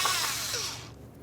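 A 10mm ignition coil mounting bolt comes out on a 2011–2021 Jeep Grand Cherokee 3.6L V6, a brief close whirring burst from a power tool that fades out after about a second.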